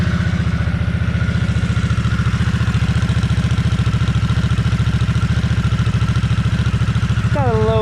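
A Harley-Davidson 975 Nightster motorcycle engine idles close by with a low, even, pulsing rumble through the factory exhaust, steady throughout with a brief rising tone near the end.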